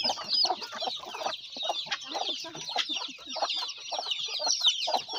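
Chickens cluck repeatedly in short, busy bursts close by on a farm, with high chirping birds layered over them throughout.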